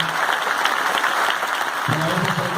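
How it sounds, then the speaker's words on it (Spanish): Applause from an audience at a talk on regional integration in Mar del Plata, a steady dense wash of clapping at even loudness throughout, with a voice starting near the end. "un aplauso para Pedro"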